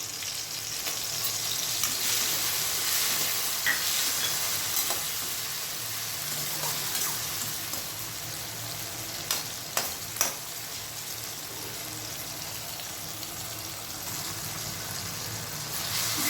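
Ingredients for a ridge gourd and raw mango pickle fry in hot oil with a continuous loud sizzle, while a spoon occasionally stirs and scrapes the pan, giving a few sharp clinks near the end.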